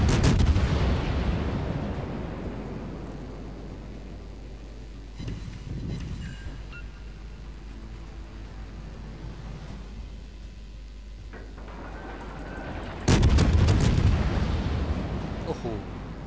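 Big naval guns from a warship game featuring the Duke of York boom in heavy, rumbling blasts at the start and again near the end, with a quieter stretch between them.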